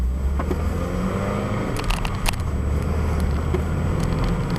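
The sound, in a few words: 2001 Toyota MR2 Spyder driving on small roads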